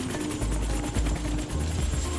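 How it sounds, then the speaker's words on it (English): A twin Huey helicopter lands in snow, its rotor beating in a loud, steady rapid thump over a deep engine roar, close and continuous. "The chopper lands in a swirl of snow"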